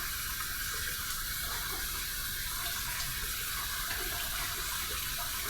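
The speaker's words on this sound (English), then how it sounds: "I'm gonna drain some water from the sink." Water running and draining from a bathroom sink during shaving, a steady close gurgling rush throughout with no talk.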